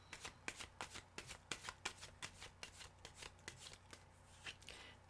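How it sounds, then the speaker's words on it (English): Tarot cards shuffled by hand for a Major Arcana reading, giving a quick run of crisp riffling snaps in a steady rhythm, close and fairly quiet, with no talking. "Okay, one more shuffle."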